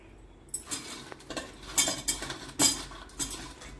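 A spoon stirs coconut milk and sugar for sweet paal paniyaram, clinking and scraping against the vessel in a run of close, irregular metallic taps with short pauses between them.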